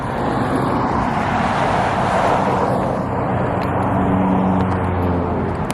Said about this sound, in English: look how the cars are driving